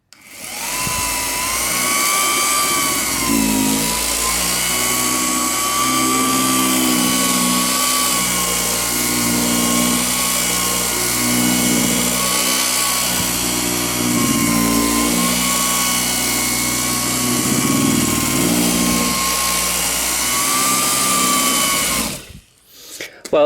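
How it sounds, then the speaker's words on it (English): A TackLife PRS02A electric rotary sander runs steadily at high speed for about twenty seconds, a loud continuous motor whine with a slight rise and fall, before cutting off abruptly near the end. "So, yeah, let's do some sanding."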